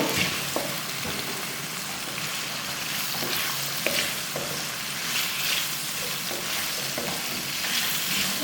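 Whole coriander seeds, turmeric and salt roast in a pan for an egg and potato bhujia, giving a steady, close sizzle with occasional scraping clicks from stirring and no talking.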